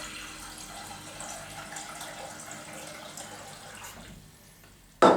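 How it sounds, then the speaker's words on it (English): Tap water runs steadily into a kitchen pan while pickling onions are prepared, a soft continuous hiss that fades before a sudden loud clatter at the very end. "Put some water in that."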